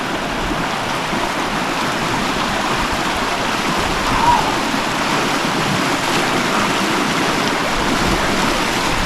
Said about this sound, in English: That may be the hardest river crossing we've had so far. That was pretty swift.